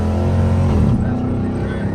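Loud, close revving of a Hemi engine fitted with a Windbooster throttle controller and set to drag mode, a steady harmonic roar that swells and then shifts pitch midway, continuous with no pause.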